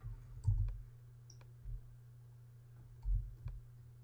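Four or five faint, sharp keyboard key presses come at irregular intervals in a quiet room, with no voices.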